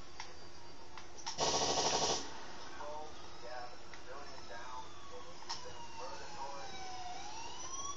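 A police siren in the GTA video game wails in a loud burst, then gives way to gliding tones under ongoing game noise while players talk.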